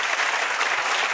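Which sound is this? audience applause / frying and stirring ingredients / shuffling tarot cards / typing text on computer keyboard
audience applause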